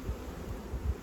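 Honey bees buzzing at an opened hive box with a brood nest in a botanical garden apiary, a faint, close, continuous insect hum with small swells lasting about a second.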